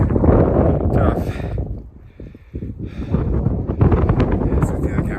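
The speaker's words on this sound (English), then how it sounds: "It's definitely windy up here" Strong gusts on a rocky mountaintop buffet the microphone in a steady roaring rush, with a brief lull midway before the blustering picks up again.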